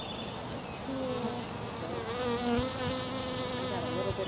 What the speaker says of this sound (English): there's actually some little bees stuck in it there